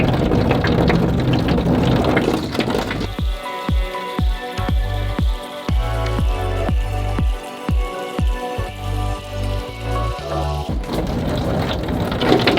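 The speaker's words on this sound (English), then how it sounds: "It sounds so scary because you can hear water like running. But it's actually just on the roof." Hose water drums loudly on a metal van roof overhead, a dense rain-like patter with a series of sharp thumping knocks through the middle, steady and close.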